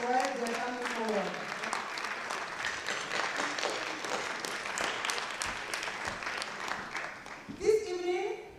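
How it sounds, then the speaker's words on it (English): Audience applause at an evening keynote gathering, a steady dense wash of many hands clapping that sustains throughout, with some voices over it at the start and a brief louder burst near the end. "And as they come, you just clap for them."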